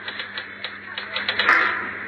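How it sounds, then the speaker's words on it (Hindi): Rapid keystrokes on a typewriter as a father types out a story, a run of sharp close clicks that grows slightly denser and louder toward the end, with a faint steady hum underneath. "पिता ने टाइपराइटर पर कहानी टाइप करते हुए कहा"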